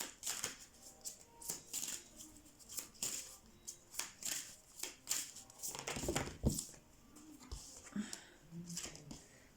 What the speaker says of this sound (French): Je vais vous tirer une carte sur les dragons